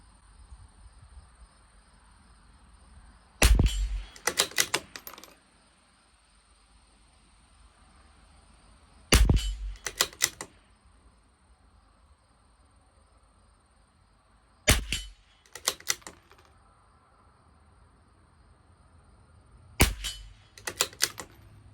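A CZ 457 LRP rifle with an IBI barrel fires Lapua Super Long Range ammunition at a 50-yard range. Four sharp reports sound about five seconds apart, each followed by a quick cluster of metallic clicks, with quiet between them.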